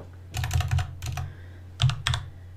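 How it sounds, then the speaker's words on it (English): Keys clatter on a computer keyboard in two quick bursts of close typing, the second shorter after a brief pause, with no voices. "So you go into your effects panel, you type in"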